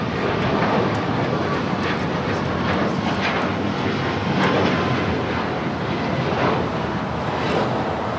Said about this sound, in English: This is United Airlines 2361 taking off to Bozeman on the MAX 8.